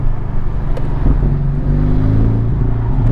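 Porsche 718 Cayman GTS fitted with a Fabspeed Supercup exhaust, heard from inside while driving: a loud, deep steady engine drone with rising tones as it pulls, wind and road rumble around it, no talking.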